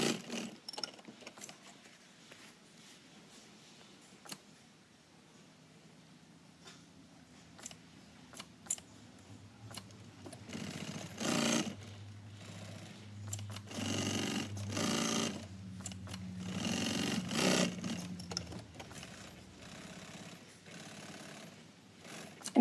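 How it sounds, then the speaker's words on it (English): An industrial sewing machine back-tacks cross webbing onto a pocket body, quiet handling at first, then several loud bursts of rapid mechanical stitching with short pauses between them, close up with no talking. "now you're going to sew that Ames cross webbing on the front pocket body using that back tacks at both ends"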